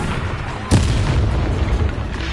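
A Confringo explosion spell in the game Hogwarts Legacy lands as a single sharp, deep boom partway through, followed by a low rumbling tail over the battle noise.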